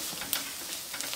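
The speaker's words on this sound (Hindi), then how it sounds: "लगातार चलाते हुए धनिया को भून लेती हूँ" Coriander powder roasting in a pan while being stirred continuously, a soft, steady sizzle with faint scraping and a couple of light ticks from the spoon.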